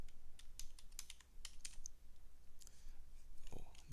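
Computer keyboard typing in bursts of quick light clicks, close and fairly soft over a steady background hum, while entering MATLAB commands for an Arduino.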